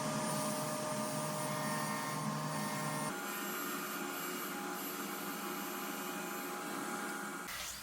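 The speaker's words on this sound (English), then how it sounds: "router bit to create the recess for the center panels, just taking several passes to reach a 1/2 inch deep" A handheld router takes several passes to cut a half-inch-deep recess in a bed frame for the centre panels. It gives a loud, steady, high-pitched whine with a continuous roar, and the pitch shifts partway through as the cut loads the bit.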